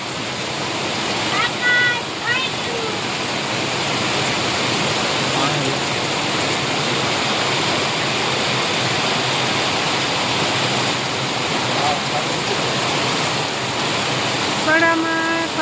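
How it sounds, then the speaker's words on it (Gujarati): Heavy rain pours down with wind in a Gujarat village, a dense, constant roaring wash of water that stays loud throughout, with faint voices briefly audible beneath it. "જોરદાર વરસાદ આવે છે આજ"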